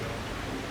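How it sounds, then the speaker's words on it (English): Rain falls as a steady, dense hiss that stays even and continuous for the brief moment, with no voices over it. "it's raining now"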